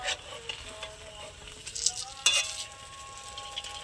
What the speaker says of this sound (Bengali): তো এইভাবে কিন্তু আমি সবগুলো ভেজে নেব